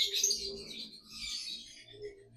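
Lovebirds kept by a breeder chirp in quick bright bursts, near and fairly loud, with a few low soft coos underneath and no talking.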